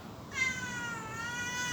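A hungry cat meows close by, one drawn-out, wavering cry lasting over a second, clear and alone against faint background noise.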